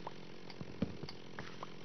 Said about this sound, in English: spending a bit of time chopping away with the chainsaw